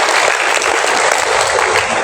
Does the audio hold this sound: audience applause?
yes